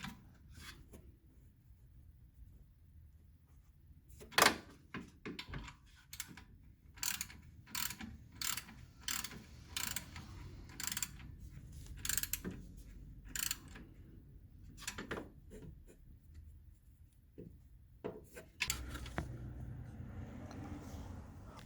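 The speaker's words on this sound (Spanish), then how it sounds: "Ajustamos la tensión de la correa del alternador apretando el tornillo más largo del mecanismo" A ratchet wrench tightens the alternator belt tensioner bolt on a 2011 Kia Soul, giving short bursts of quick metallic clicking separated by pauses, close and clear.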